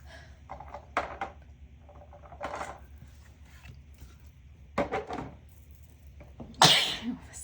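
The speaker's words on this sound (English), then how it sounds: "That was a sneeze." One person sneezes sharply near the end, a loud close burst after several quieter sniffs and breaths, with small handling noises in a quiet room while crafting a bracelet.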